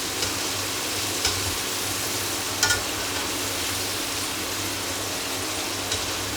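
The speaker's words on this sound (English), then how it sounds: "Just let it fry for at least 3 to 4 minutes to let it get solid on the ribs coating" Flour-coated pork ribs deep-frying in oil for spicy Chinese salt and pepper ribs give a steady, even sizzle with a soft bubbling hiss and occasional faint pops, all alone with no talk.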